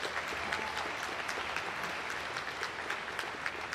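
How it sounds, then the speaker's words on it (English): Audience applause for educators at a school committee meeting, a steady wash of many clapping hands in a room, moderately distant and continuing throughout. "So I also want to give a round of applause for all the awesome educators we have."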